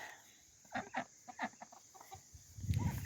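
Hens cluck in short, soft bursts at close range, several quick calls in a row, followed by a rising burst of louder low clucking.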